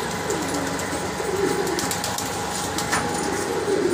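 Indian pigeon breeding pairs coo softly amid a steady background of ambient noise, with faint low murmuring calls repeating now and then.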